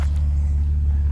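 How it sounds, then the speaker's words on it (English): An Audi A6 fitted with a Magnaflow catback exhaust, with a supercharger, idles down in a steady, low, rumbling drone that holds even and close throughout, with no voices. "as you can hear now, the car's starting to idle down"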